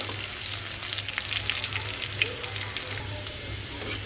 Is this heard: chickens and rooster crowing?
no